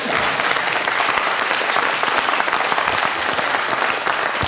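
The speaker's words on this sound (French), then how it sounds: "C'est tout, on l'applaudit." A theatre audience applauds the performer after a Pierre Desproges piece, with loud, thick clapping sustained evenly from start to finish.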